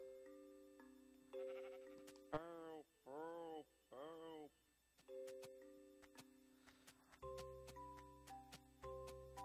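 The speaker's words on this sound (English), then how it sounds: "look at all these sheep. Look at the little black sheep." Sheep in the video game Minecraft bleat in three clear, close calls in quick succession, with chimes and game tones around them but no talk.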